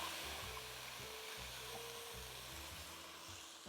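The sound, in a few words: onions and frozen peppers sautéing in pan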